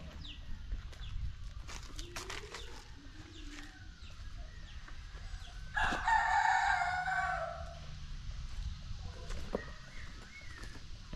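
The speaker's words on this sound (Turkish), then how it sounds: "burada rengarenk horozları görüyorsunuz" Colourful roosters crow in Bali, one loud, close crow standing out for about two seconds amid scattered clucks, faint distant crows and soft outdoor background noise.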